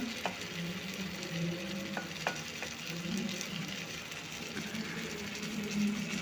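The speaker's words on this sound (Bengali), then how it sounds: "মাংস থেকে যতক্ষণ না তেল ছাড়ছে ততক্ষণ আমি কষতে থাকব" Chicken meat sautéing in oil in a pan as it is cooked down for a spicy dish, a steady close sizzle with occasional stirring scrapes and clinks running throughout, no voices.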